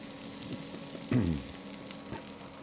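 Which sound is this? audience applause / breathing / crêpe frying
crêpe frying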